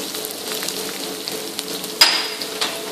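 Chopped onions fry in a hot pan for masala dosa filling, giving a steady close sizzle and crackle with a sharper hiss flaring up partway through.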